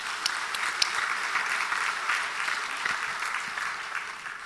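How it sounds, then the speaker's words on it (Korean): A church congregation at a Sunday evening service claps together, a moderate, even patter of many hands with a few sharper individual claps standing out, heard at some distance. "박수 한번 하십시다"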